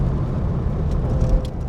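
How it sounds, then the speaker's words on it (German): A 1949 VW Beetle Hebmüller Cabriolet, a small car of just under 800 kg, drives past with a steady low engine rumble and road noise throughout, fairly close and unbroken. "Also macht richtig Spaß, so ein Auto zu fahren."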